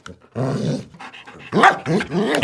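A family dog, jolted awake while sleeping in a hallway at midnight, lets out a loud, close growl that breaks into harsh, rapid barking, with no voices over it.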